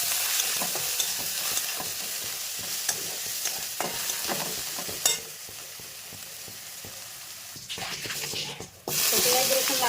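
Onions and garlic fry in a pan, a close sizzle with scraping stir strokes and clatter, briefly interrupted before a louder burst of frying at the end.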